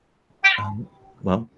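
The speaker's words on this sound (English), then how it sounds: "oh, that's the cat." A cat gives two short meows close by, the first longer and the second a brief follow-up, alone in an otherwise quiet room.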